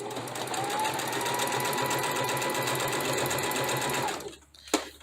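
Steady, close whirring of a sewing machine stitching a fabric wristlet, running continuously before stopping near the end, followed by a short click and quiet.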